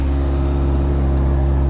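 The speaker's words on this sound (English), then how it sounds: "Fired right up, guys. Engine sounds really healthy." A salvage motorcycle with its stock exhaust idles loud and close, its low engine drone holding steady and even throughout, with no voices.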